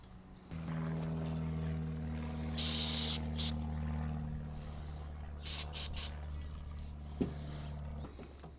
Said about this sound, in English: We're going to hit it with the carb cleaner and just blow some of that out.